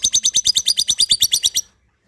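A pet lovebird gives a fast, regular burst of around fourteen shrill chirps, close and loud, then stops abruptly into silence.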